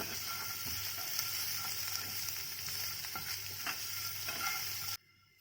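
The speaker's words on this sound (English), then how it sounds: "Then I'll add the chopped carrot. Saute it." Chopped carrot sautéing in a pan sizzles steadily with a few light stirring scrapes and taps, then the sound cuts off abruptly near the end.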